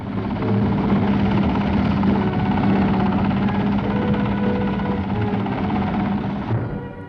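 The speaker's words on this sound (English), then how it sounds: "learnt to fly a helicopter and led the flight past of 707 Commando Training Squadron" A helicopter's steady rotor thump and engine roar fill the air, loud and continuous, easing off slightly at the end.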